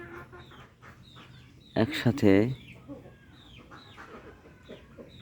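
A flock of fifteen chickens, four roosters and eleven hens, clucks and calls softly throughout, with a louder burst of squawking near the middle and a person speaking briefly over it.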